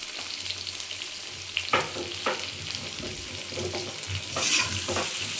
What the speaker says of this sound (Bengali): আলু আর কচুটাকে সুন্দর করে ভেজে নিয়ে